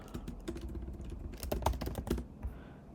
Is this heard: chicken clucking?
no